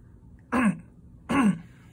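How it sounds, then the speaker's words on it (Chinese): A person gives two short, forceful coughs during a front-of-neck massage. The coughs are close and loud, spaced less than a second apart, with near silence around them. "咳嗽3声"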